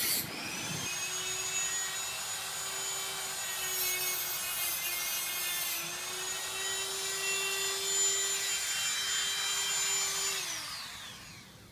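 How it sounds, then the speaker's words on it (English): A Dremel rotary tool cuts through antenna wire clamped in place, giving a steady high-pitched whine with a strong buzzing tone. It runs unbroken for about ten seconds, then winds down, with no talking. "I'm using a Dremel to cut in real time"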